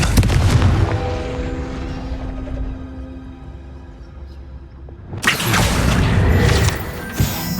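A Confringo explosive spell in Hogwarts Legacy gives a loud, close booming blast that fades into a low rumble, followed a few seconds later by a second sharp, crackling burst.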